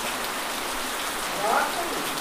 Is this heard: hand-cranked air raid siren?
no